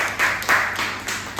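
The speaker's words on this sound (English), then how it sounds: "One more round of applause to you." Brief applause at a speech club meeting: a handful of distinct, evenly spaced claps ring out over about a second and a half, moderately loud and close.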